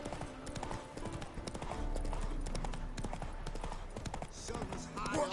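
Roach, the horse in Witcher 3, gallops at full charge with a steady, rapid clip-clop of hooves close up, over game sounds, with voices talking throughout.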